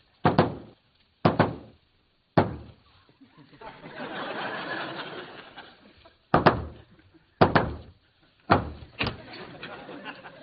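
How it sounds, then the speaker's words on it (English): Knuckles rap on a door in sharp groups of hits, spaced a second or more apart, with a stretch of murmuring talk and shuffling in the middle. "That's not the secret knock."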